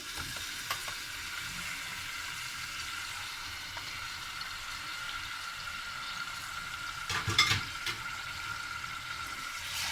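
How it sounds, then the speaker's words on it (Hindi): Washed beef pieces for haleem frying in a pot: continuous moderate sizzle with stirring, and a louder burst of spatter and scraping near the end, no speech. "अच्छा, इसको थोड़ा सा हम इसमें भून लेंगे।"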